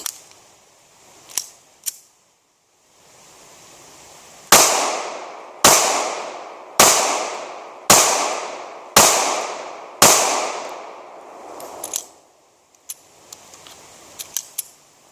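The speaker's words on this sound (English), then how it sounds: "Today I'm firing Federal RTP, stands for Range Target Practice Ammo" Ruger LCP II pistol firing Federal RTP 380 auto 95 grain full metal jacket ammo, six loud, sharp shots in a steady series about one second apart, each ringing out briefly, with faint clicks and handling before and after.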